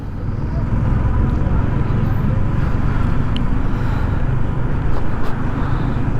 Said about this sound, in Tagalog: Traffic na naman dito.